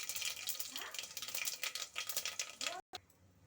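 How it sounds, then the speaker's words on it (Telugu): Shahi jeera hitting hot oil in a pan for biryani gives a steady, close crackling sizzle throughout, with a brief clink of a utensil and a short break near the end. "తర్వాత అండి షాజీరా వేయాలి."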